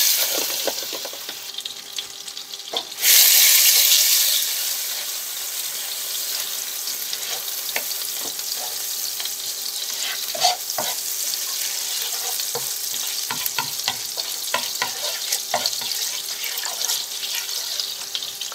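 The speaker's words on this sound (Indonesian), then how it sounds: "Sekarang kita panaskan wajannya dan masukkan butternya." Butter melting and sizzling in a hot wok, a steady close crackle that jumps louder for a moment early on, then settles into an even fry with scattered pops and light stirring clinks.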